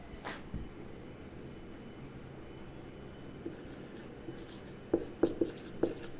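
Marker or chalk taps and strokes on a classroom board come as a few sharp, close clicks near the end, after a quiet stretch with faint room noise.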